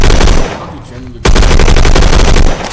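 Automatic fire from an FAL PARA 50.63 rifle in the game Phantom Forces: loud, close, rapid bursts of shots, a brief lull near the middle, then a sustained dense stream of rounds that tapers at the end.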